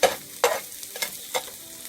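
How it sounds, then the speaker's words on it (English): Cooked overnight rice being spread around a hot pan for fried rice, giving a few quick scraping strokes over a light sizzle, close and alone without speech. "when you're making the fried rice, it's better you cook the rice from overnight. So I'm gonna spread them away"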